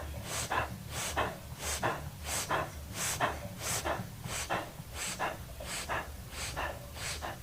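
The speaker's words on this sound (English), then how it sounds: "We don't need to breathe so full, it might be shallower." Fast, shallow rhythmic breathing during a yoga breathwork session, roughly a dozen quick, sharp, close breaths at a steady, even pace with no talking.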